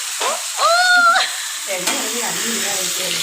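Fish frying in a pan give off a steady close sizzle, with a person's voice rising over it briefly near the start.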